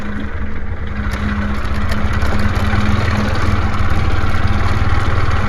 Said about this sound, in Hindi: बाकी अगर गाड़ी का या और कोई शोर रहे तो प्लीज माइंड मत करना